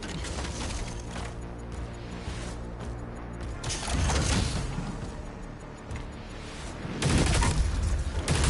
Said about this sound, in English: That shield just exploded.